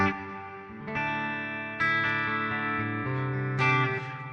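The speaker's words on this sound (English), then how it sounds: "One thing I really love is the reverb tone that I'm getting out of this." Electric guitar chords ring out with a lush, washing reverb tail, several strums spaced across a few seconds, each decaying into a spacious echo.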